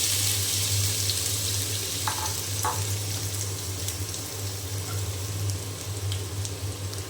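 Potatoes dropped into hot oil in a pan, cooking for a spiced beef and potato dish, with a steady, close hiss of frying and a couple of brief clinks from a utensil partway through.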